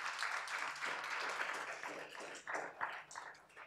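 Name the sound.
audience applause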